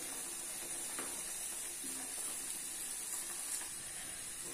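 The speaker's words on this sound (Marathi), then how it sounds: "छानपैकी मी बॉल्स तळून घेतले आहेत, तुम्ही बघू शकता। तर आता हे मी तळून झाले" Potato and pea snack balls fry in hot oil with a soft, steady sizzle and faint crackle, quiet and close, with light stirring and no talk.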